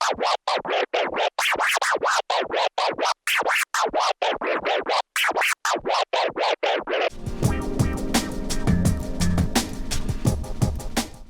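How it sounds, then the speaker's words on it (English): Baby scratch done on a DJ controller jog wheel: rapid back-and-forth scratched strokes in a regular rhythm with short gaps, then a dense beat-backed section takes over for the last few seconds. "in this video I will teach you how to do the baby scratch,"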